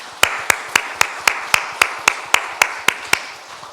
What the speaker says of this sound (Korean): 이들을 위해서 감사의 박수 한번 하겠습니다